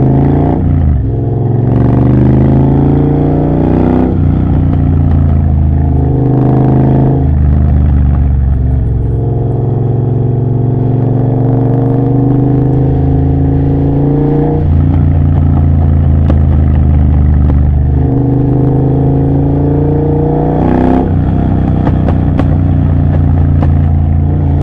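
A Triumph Bobber motorcycle fitted with a Motone Mayhem X-Pipe exhaust rides along, loud and close, its engine note rising through several gear changes with clear revving pulls and throttle-off pauses.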